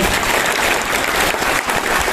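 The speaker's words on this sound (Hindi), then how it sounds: "एक बार जोरदार तालियां बजाएं सभी लोग।" Applause from an audience at a logo unveiling during a launch workshop: a dense, steady wash of many hands clapping at once, loud and continuous throughout.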